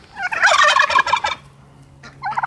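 A farm turkey lets out a loud, close gobble, a rapid burst of warbling notes lasting about a second, followed by a pause and a shorter second gobble.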